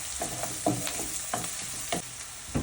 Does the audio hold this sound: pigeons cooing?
no